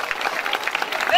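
Audience applause at a school reading festival, a steady wash of clapping through the whole short stretch with no pauses, fairly loud and close.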